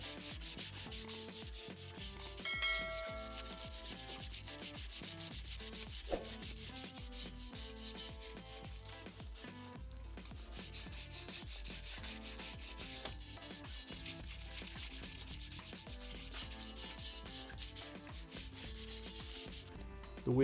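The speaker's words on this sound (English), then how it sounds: "Now I sand the wheels with 320 grit sandpaper." Car wheels being sanded by hand with 320 grit sandpaper, a steady rubbing scrape that runs continuously throughout at moderate, close level with no talk.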